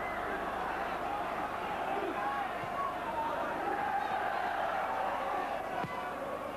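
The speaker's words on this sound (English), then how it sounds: "So the Villa crowd really roaring now." A big football crowd roars at an Aston Villa home match against Banik Ostrava in 1990, a steady, dense wall of cheering and noise from the packed stands, with a commentator speaking over it.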